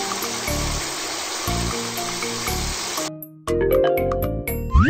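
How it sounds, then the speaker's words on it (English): Cartoon water rinsing effect, a broadband rushing stream that runs steadily under a looping musical bed, then stops and gives way to bright chimes and jingly music. "First, rinse with water to cool it."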